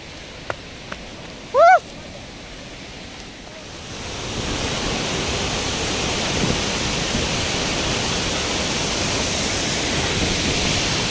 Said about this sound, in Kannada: ಇದು ಡೈಮಂಡ್ ಫಾಲ್ಸ್ ಅಂತ ಕರೀತಾರೆ